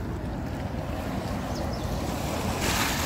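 Heavy water roaring through six open spillway gates of Pong Dam, each raised about four feet, as a steady dense rush with no break, close and loud, with some wind buffeting the microphone.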